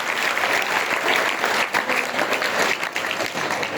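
Audience at a Say No to Drugs campaign event clapping in a dense, loud burst of applause that holds steady for a few seconds, with no voices standing out.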